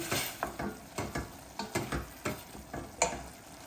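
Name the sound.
onion and garlic frying with curry being stirred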